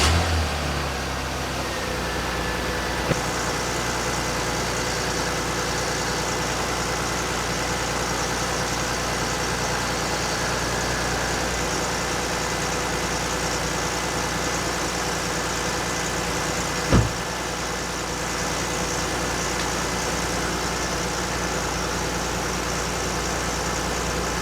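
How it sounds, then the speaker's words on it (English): An Audi A4 B6 engine runs at a steady idle after a power steering fluid change, a continuous close, even hum with two brief clicks and no talking. "get that engine started."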